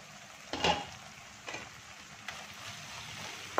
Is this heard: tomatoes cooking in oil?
yes